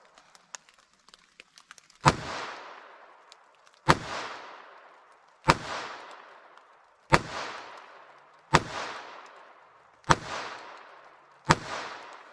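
A .22 pistol fires six sharp, loud shots spaced roughly one and a half seconds apart outdoors in fog, each crack ringing out into a decaying echo, with faint clicks before the first.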